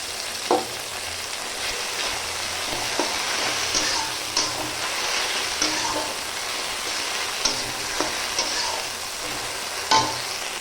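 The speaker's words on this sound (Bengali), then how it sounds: "এবার আদা রসুনের টেস্টটা দিয়ে দেবো" Ginger garlic paste fries in a pan with a continuous close sizzle, while a spoon scrapes and taps the pan at intervals during stirring, and no one speaks.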